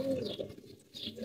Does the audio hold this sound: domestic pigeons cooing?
yes